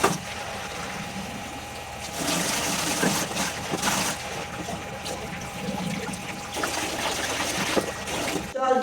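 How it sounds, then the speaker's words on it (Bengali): A water pump lifts water at a rural home, giving a continuous trickling, gurgling flow over a low mechanical drone that stops abruptly at the end. "এবার পাম্পটা চালাবো, জল তুলবো।"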